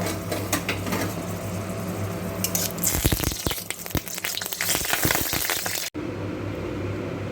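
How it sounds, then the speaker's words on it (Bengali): Two dried red chillies fry in hot mustard oil in a kadai for a prawn bharta. A steady sizzle breaks into a cluster of loud crackling pops midway, then briefly settles back to a smoother hiss. "তেলটা গরম করে দুটো শুকনো লঙ্কা একটু ভেজে নেব"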